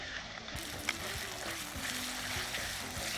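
Ivy gourd with ginger and garlic sautéing in a pan, a steady soft sizzle with faint stirring scrapes, moderately quiet and continuous.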